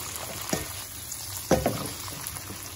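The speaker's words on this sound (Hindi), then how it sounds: "इसे हमें 2 से 3 मिनट तक फ्राई करना है" Vegetables with bell pepper and green peas frying in a pan, a soft low sizzle broken by a couple of louder stirring clatters.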